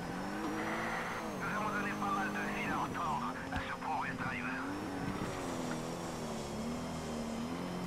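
A Toyota Supra race car drives in Toca Race Driver on PS2, its engine whining and revving steadily at close range while someone talks over it almost the whole time.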